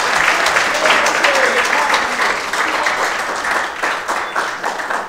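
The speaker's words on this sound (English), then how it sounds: "So can we give him a big round of applause?" An audience at an executive dialogue event gives a big round of applause, steady and loud clapping from many hands for the full stretch, with some crowd murmur underneath.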